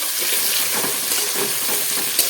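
Chopped tomatoes go into onions frying in a pan, giving a steady close sizzle with some stirring scrapes throughout, ending in a short clink.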